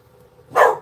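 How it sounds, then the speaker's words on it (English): A single short dog bark, close and fairly loud, cuts through a quiet room. "there goes the dogs."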